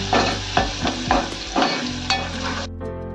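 Onions fry in a pan while a spatula scrapes through them in several quick, firm strokes over a loud, close sizzle. The frying cuts off near the end.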